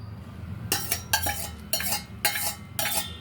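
Rava khichdi being stirred in a pot: five rhythmic bursts of spoon scraping against the pot, close and fairly quiet, with no other sound.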